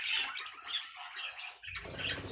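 Budgerigar chick chirping, a run of thin, high, rapid peeps and squeaky calls close by, brief pauses between bursts, with a rougher scratchy stretch near the end.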